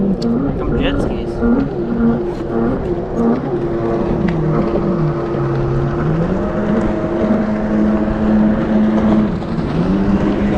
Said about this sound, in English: Here come jet skis.